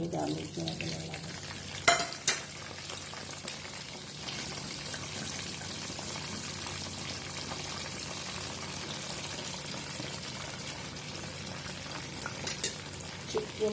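Sausage frying in oil that was already used for chicken nuggets, a steady close sizzle running throughout with a couple of brief clinks of a utensil near the start and end.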